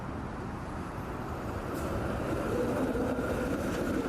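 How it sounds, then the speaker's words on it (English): Subway train rolling past in The Quiet Man video game, a steady broad rumble with rail noise lasting throughout, fairly loud and without voices. "Ah, the 7 train"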